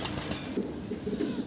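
Black Mundi pigeons coo with soft, low, repeated throaty calls at close range, no voices over them.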